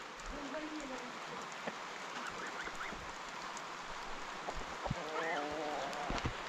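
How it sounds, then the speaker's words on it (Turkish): Steady rain falls in a rural village, a soft continuous hiss with scattered drop ticks, while fowl or geese honk intermittently and a voice murmurs in the background. "Ya, yağmur kadar güzel bir şey var mı ya?"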